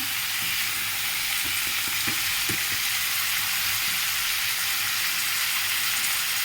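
Green chillies are stirred through hot oil in a pan, a loud, dense, continuous frying hiss with a few soft scraping and clinking stirs near the start, no voices.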